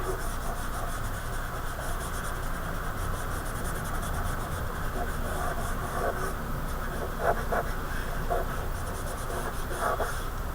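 Soft pastel rubbed sideways across drawing paper in a thin background layer, a steady dry scratchy rasp running continuously with slight swells, close and fairly quiet, no voices.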